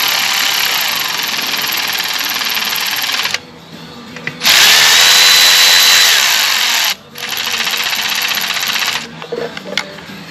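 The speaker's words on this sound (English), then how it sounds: "I'll run these down slow with my cordless" Cordless drill running bolts down on a Kohler engine on a Toro Recycler lawn mower, close loud whirring bursts with short gaps between runs, the last one ending in uneven stuttering pulses.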